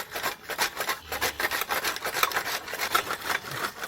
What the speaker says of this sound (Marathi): तर हे पहा आपण आता खोबरं किसून घेऊ राहिलो